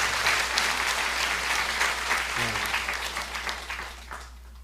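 A church congregation applauds at a pastor's sending-off service, a steady wash of dense clapping from a large indoor crowd that gradually thins and fades out.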